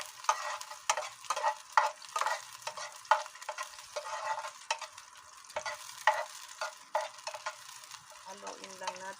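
Garlic stirred and frying in a pan with softened kamansi breadfruit, close sizzling under repeated scraping spoon strokes in an irregular rhythm, fading near the end.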